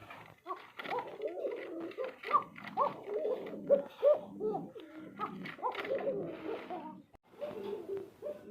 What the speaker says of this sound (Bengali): এখানে খুবই সুন্দর একজোড়া বিগ সাইজের ব্ল্যাক সিরাজি আছে